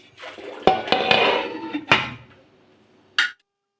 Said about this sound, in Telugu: తర్వాత మూత పెట్టేసేయండి.